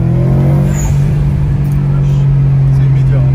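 A car engine revs hard under acceleration with a loud, steady drone close by, while people talk over it.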